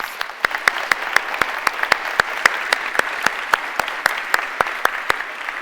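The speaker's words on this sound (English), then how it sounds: "can we give them a quick round of applause?" Sparse applause from a small group, distinct individual claps in an even, fairly quick rhythm, close and clear against a quiet background.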